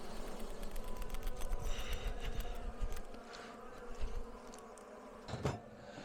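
Honeybees hum around an opened beehive during a spring inspection after winter, a faint, steady buzzing drone close by with occasional brief bumps and shifts in intensity.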